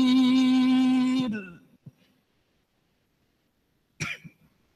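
A single harsh cough cuts off a sustained Quranic recitation, followed by a faint click and then a second, shorter cough after a pause.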